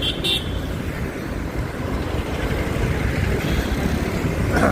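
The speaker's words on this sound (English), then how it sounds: "I think the traffic is picking up today morning" Steady city road traffic rumbles along a street in Hyderabad's HITEC City on a Sunday morning, and a short car horn toot sounds right at the start before the continuous engine and tyre roar carries on.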